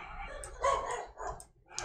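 A dog barks a few times in the video game ARK, sharp mid-range yaps rising over a low rumbling game background, fairly close and moderately loud.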